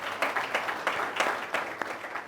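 An audience at a book launch claps, the individual hand claps standing out as sharp, fairly loose beats in a moderate round of applause, with no talking over it.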